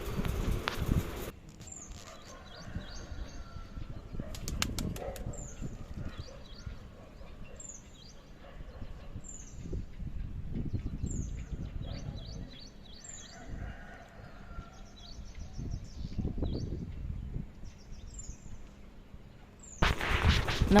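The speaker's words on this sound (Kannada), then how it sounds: "ಇನ್ನು ನೀವು ನೀಟಾಗಿ ಕೇಳಿಸ್ಕೊಂಡ್ರೆ ಹಕ್ಕಿಗಳ ಚಿಲಿಪಿಲಿ ಎಲ್ಲ ಕೇಳಿಸ್ತಿರ್ತದೆ." Birds chirp and tweet at sunrise outside a balcony overlooking both greenery and buildings, with short high calls scattered over a steady low outdoor background and occasional louder rustling bursts.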